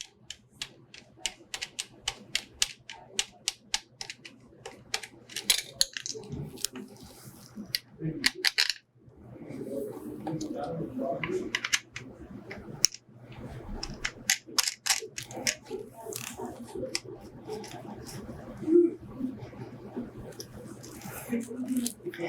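A ground cable's clamp grip being connected to the base of a high-voltage partial discharge coupler unit, heard as rapid mechanical clicking and ratcheting in close sharp bursts, with a steady low hum beneath.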